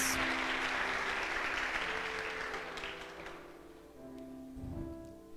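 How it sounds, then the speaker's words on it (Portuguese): Applause from a church congregation starts strong and gradually thins and fades over several seconds, leaving a quiet room with faint scattered sounds. "Convido você a aplaudir as santas palavras, irmão, do Evangelho."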